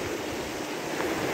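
The Ganga river flows near its confluence with the Nayar at Vyas Ghat, a steady, broad rushing of water close by with no voices.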